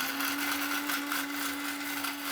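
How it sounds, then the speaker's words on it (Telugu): A mixer grinder blends coconut with water for coconut milk, a steady loud motor whine with a constant pitch that runs throughout without a break. "టెంకాయ పాలు మిక్సీ పెట్టేద్దాము."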